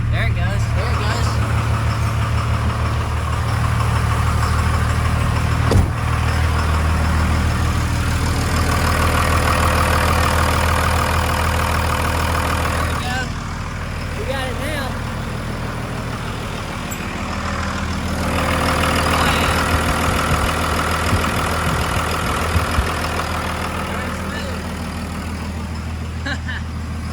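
A 1999 24-valve Cummins diesel idles close by after a fresh injector install: a steady low rumble with an even beat that dips briefly midway, with faint voices at times.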